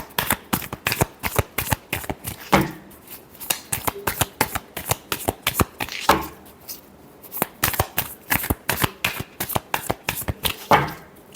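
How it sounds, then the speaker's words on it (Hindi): Tarot cards shuffled by hand in quick, crisp riffling bursts, with brief pauses between rounds, close and fairly loud with no talk over them. "Love, last shuffle."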